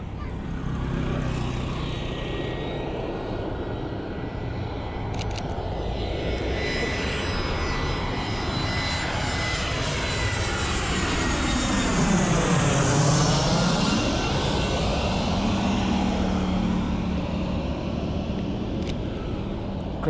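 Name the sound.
airplane flying overhead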